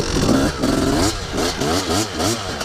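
A Yamaha YZ250 two-stroke dirt bike revs hard during a burnout, its engine rising and falling in rapid wavering surges, loud and close, with tire scrubbing noise underneath and no talking.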